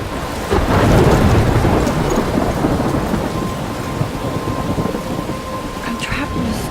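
Thunderstorm in Life is Strange: loud continuous rain pouring on surfaces with a deep rolling rumble of thunder building early and fading, a dense, close wash of storm noise.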